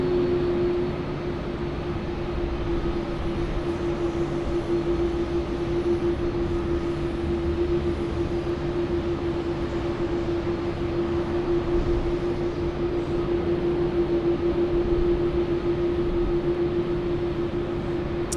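A Xiamen Air airliner takes off from runway 34 left at Sydney Airport, giving a continuous, even jet engine roar with a steady whine running through it from start to finish.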